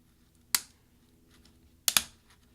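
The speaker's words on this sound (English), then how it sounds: "that's going to separate the plastic key from the plastic scissor hinge underneath it" A tool prying a plastic key off its plastic scissor hinge on a 13-inch early-2009 MacBook Pro gives three sharp, close clicks: one single snap, then a quick double snap a second later, in near silence.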